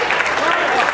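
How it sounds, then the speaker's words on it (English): An audience at a magic show during the 2012 New Panihati Festival breaks into brisk, sustained clapping, dense and fairly close, with a voice speaking over it. "Big applause for Gina, big applause."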